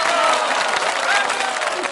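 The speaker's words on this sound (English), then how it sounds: "Applause, please." Audience applause at a live writing session, a steady wash of clapping held at an even level for a couple of seconds with no talk over it.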